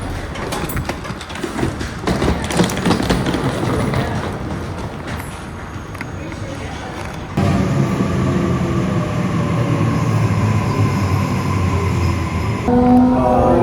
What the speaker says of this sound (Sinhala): ට්‍රේන් එක ආවා. මේ ස්ටේෂන් එක ඇතුළට ආවා.